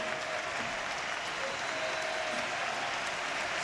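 A stadium crowd gives Andrés Iniesta a sustained ovation as he leaves the pitch during a Spanish football match, dense steady applause filling the space from start to finish, distant and unbroken.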